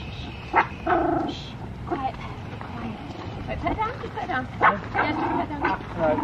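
A dog barks a few times in short yips amid people talking calmly nearby, the barks loud and close, mixed with cooing voices.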